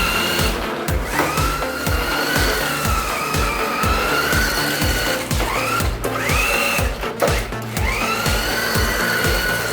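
A toy AMC Gremlin RC car by Planet Toys drives with a loud, buzzing electric motor that whines up and down in pitch as it speeds and slows, alongside repeated mechanical clicking from the gears, with no talking.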